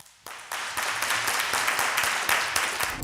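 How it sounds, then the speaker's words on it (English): An audience at a live startup pitch event bursts into applause, a dense wash of clapping that swells quickly and stays loud and steady. "Round of applause."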